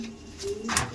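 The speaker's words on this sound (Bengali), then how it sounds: "পায়রা দেখুন।" Domestic pigeons coo in a loft, a low rolling call rising near the end over a soft steady hum.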